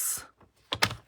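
Paper is cut for card making from a 12 by 12 sheet, with a short soft stroke followed by a pair of crisp, close snips in quick succession.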